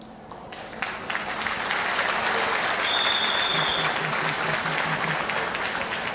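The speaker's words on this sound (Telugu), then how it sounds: "నిద్ర వచ్చేవాళ్ళు గట్టిగా చప్పట్లు కొడదామా?" An audience at a Ramakoti network training class claps loudly when asked. Sparse claps at first swell within a second into sustained, dense applause that holds steady to the end.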